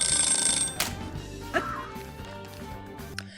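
A 30-minute cooking timer alarm rings briefly at the start and then gives way to mixed kitchen noise, with a few sharp hits and faint background sounds.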